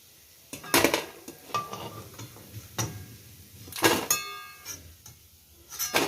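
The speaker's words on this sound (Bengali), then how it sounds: "এইবার আমি এটাকে আস্তে আস্তে একটা প্লেটে বার করে দেবো" Fried small-shrimp pakoras being lifted from the pan onto a plate: intermittent clatters, scrapes and bright clinks of a metal utensil against cookware, with quiet gaps between bursts.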